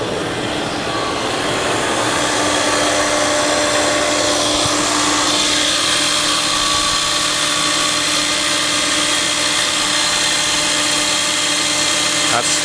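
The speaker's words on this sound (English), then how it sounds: "That's how loud this pulley is." Loud, steady mechanical whine and rattle from a noisy engine pulley on a 1996 Mercedes S420, with a constant droning hum throughout and no pauses.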